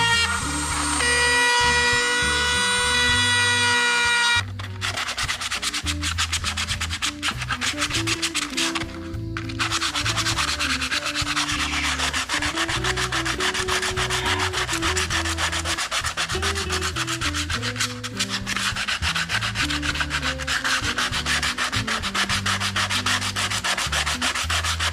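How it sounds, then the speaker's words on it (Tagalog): A rotary grinder smooths the edge of a cut circle in a wooden wall clock, making a steady, loud abrasive rubbing and sanding whine that runs almost continuously, briefly breaking once before resuming. "Ginamitan ko na ulit ng rotary grinder itong paligid ng bilog para mas makinis at maganda tignan."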